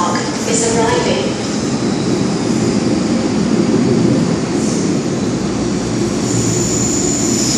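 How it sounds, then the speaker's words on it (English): An MTR Tseung Kwan O line M-Train pulls into a station platform with a dense, steady rumble and rail roar, heard up close under a bilingual station announcement. "The train to Locust Park is arriving."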